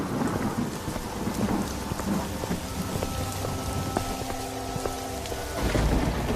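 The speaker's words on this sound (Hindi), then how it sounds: "तभी जोर जोर से बारिश शुरू हो जाती है।" Heavy rain pours steadily while thunder rumbles low underneath, swelling louder toward the end.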